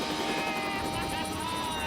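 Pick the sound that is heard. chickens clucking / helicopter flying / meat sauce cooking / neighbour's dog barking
helicopter flying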